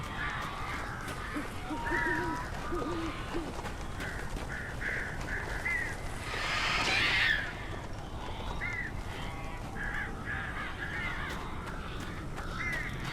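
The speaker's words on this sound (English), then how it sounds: "It's a lot of crows, ladies and gentlemen." Several crows caw repeatedly over a steady, noisy outdoor ambience in the video game Alan Wake, with calls scattered throughout and one louder burst near the middle.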